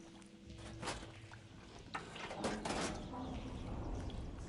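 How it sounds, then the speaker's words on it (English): Water flow switching through machinery in Horizon Forbidden West, heard as a steady rushing, gurgling wash with brief mechanical surges and clunks, fairly close and sustained throughout. "Sounds like the water's switched."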